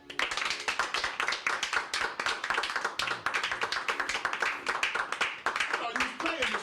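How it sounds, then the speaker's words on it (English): A person claps their hands in a steady, fast rhythm, many sharp close claps in a row, with talk mixed in underneath. "Now, producer told me, clap my hands."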